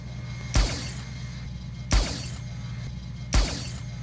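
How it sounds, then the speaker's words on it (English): A 2016 Batmobile in Rocket League sounds its empty-tank zero boost effect three times. Each is a sharp, punchy burst with a low thump, evenly spaced about 1.4 seconds apart over a steady engine hum. "the Batmobile has a unique zero boost sound effect"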